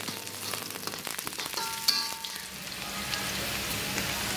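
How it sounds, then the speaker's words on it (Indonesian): Shallots and garlic fry in hot oil with a steady, close crackling sizzle, a clink of a utensil against the pan partway through, and no voices. "minyak dan tumis bawang merah dengan bawang putih"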